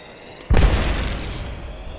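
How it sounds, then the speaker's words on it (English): A grenade goes off in the battle-royale shooter Apex Legends: one sudden heavy boom after a short quiet lead-in, followed by a long rumbling tail that fades slowly. "Look out, grenade."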